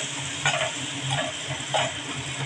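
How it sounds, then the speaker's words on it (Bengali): Spices sizzling in a hot pan for a light fish curry with ridge gourd, potato and tomato, a steady close frying hiss with a few soft scraping stirs of a spoon, no voices. "এখন আমি একটু কষিয়ে নেব, তারপর টমেটো অ্যাড করব"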